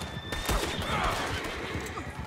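A horse in the Western video game Red Dead Redemption 2 gives a high, wavering whinny early on, set among thumping game sounds and hoof noise, fairly close and clear.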